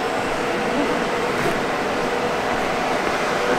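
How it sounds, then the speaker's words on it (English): A steady, loud rumble of a train rolling into Cardiff Central station, with broad continuous noise and no distinct breaks. "We've got a train coming."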